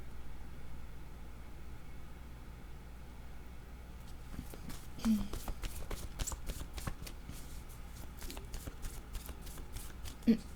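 Oracle cards being shuffled to draw a card, a fast run of rapid riffling flicks starting partway through, close and fairly soft over a steady low hum, with no talk.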